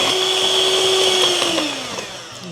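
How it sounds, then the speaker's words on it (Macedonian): An electric hand mixer beats with brown sugar in a bowl, a steady high motor whine that lowers in pitch and softens toward the end, with no talking. "Јас користам кафеав шекер затоа што мислам дека малце дава другаче вкус и со миксер е најлесно"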